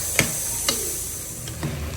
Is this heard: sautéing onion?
yes